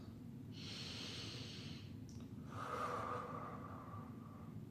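During a seated stretch with a gentle twist, one close, quiet breath cycle: a steady hissing inhale, a brief catch, then a slower, fuller exhale that fades gradually.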